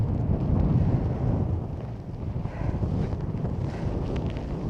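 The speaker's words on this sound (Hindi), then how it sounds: "बहुत तेज हवा है" Strong, gusting wind roars across the snowy Kedarkantha summit during a snowstorm, buffeting the microphone with loud low rumbling that surges and eases throughout, with no voices.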